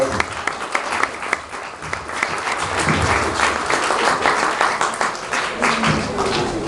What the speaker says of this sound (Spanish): quien recibimos con un fuerte aplauso